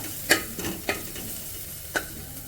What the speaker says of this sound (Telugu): అల్లం వెల్లుల్లి పేస్టు, పసుపు వేసి ఫ్రై చేయాలి